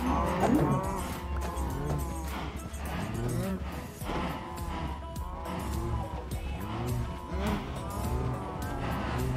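Cattle mooing inside a farming video game, several drawn-out lowing calls repeating across the scene over a steady game background, with people talking now and then.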